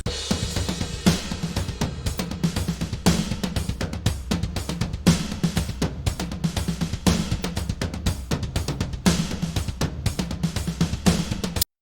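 A dry, unprocessed drum kit plays a steady groove, with punchy kicks, snare hits and busy cymbals throughout, loud and close with no other instruments.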